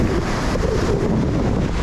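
Rough sea waves surge around a small fishing boat in a loud, continuous wash of surf, heavily buffeted by wind on the microphone.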